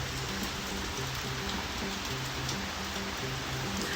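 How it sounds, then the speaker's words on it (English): Steady rain falling outside a porch, a dense even hiss of drops with no talk, constant and fairly close throughout. "listening to the rain."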